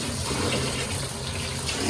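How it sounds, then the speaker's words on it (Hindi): Tap water pours steadily and loudly into a vessel while rice is washed, a continuous close rushing and splashing with no break. "और चावलों को पूरा वॉश कर लेंगे"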